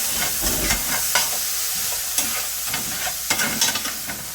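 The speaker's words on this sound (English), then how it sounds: "And I'm going to be sauteing this a little" Carrots with yellow and green bell peppers, seasoned with powdered and natural seasoning, sauté in a pan with a steady sizzle and repeated scraping stirs of a utensil, close and fairly loud, with no talking.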